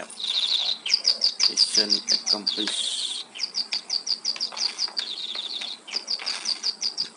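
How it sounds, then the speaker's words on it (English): Many birds chirp in a busy house in the Tintin Wii game, rapid high tweets repeating in quick bursts throughout, with a short spoken line and a few clattering noises underneath. "Oh, so many birds."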